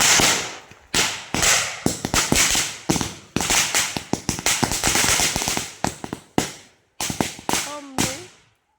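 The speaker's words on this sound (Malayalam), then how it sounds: "അങ്ങനെ പടക്കങ്ങളെന്നും ഞങ്ങളുടെ വീക്ക്നെസ് ആണെന്നും പറഞ്ഞ്" Rapid strings of sharp, loud firecracker bangs, bursting close by in irregular clusters over several seconds during Vishu festival celebrations, with a voice briefly audible near the end.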